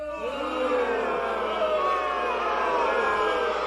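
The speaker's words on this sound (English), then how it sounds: "cheer if you like Braxton" A comedy club audience cheers for an audience member named Braxton, a sustained roar of shouts and whoops from many voices that holds steady and loud from start to finish.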